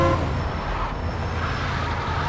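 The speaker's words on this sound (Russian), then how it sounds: "бибикать я научился." A car horn honks in the game Mafia 2, layered over a steady engine drone and road rumble, fairly loud and close.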